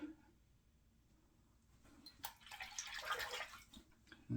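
A quiet, brief spurt of water splashes and trickles for about a second and a half during wet shaving with a razor, amid a faint background, with a small clunk at the end.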